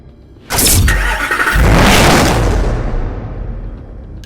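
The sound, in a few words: Mercedes-Benz SLS AMG engine starting, Need for Speed Hot Pursuit Remastered video game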